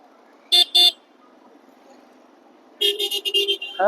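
Car horns blare in road traffic near a hill station in Karnataka: two quick toots, then a longer series of honks after a pause, over a low traffic rumble.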